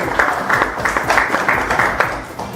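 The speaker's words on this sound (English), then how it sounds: "A round of applause to Jerry Jr." An audience at a birthday celebration at a lodge applauds for Jerry Jr., producing loud, dense, steady clapping from a nearby crowd that lasts throughout the short clip with no talk.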